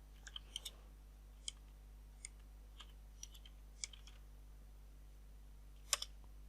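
Sparse clicks of a computer keyboard as data is typed into an Excel spreadsheet, scattered single keystrokes and short bursts over a quiet room with a low electrical hum.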